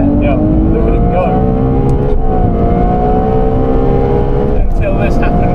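BMW M2 race car lapping a track, its engine holding a steady high drone with harmonic lines shifting through gear changes, loud and continuous under a voice talking.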